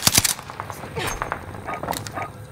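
Video game gunfire in a squad battle royale match, with bursts of rapid shots up front then scattered sharper cracks and distant pops, mixed with game sounds and a voice speaking underneath.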